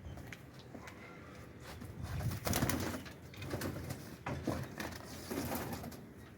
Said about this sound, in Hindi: अब आप ये देखें, ये सलारा टैडी कबूतर है, इसकी कबूतरी देखें कैसी है।